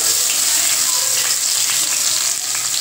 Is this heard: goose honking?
no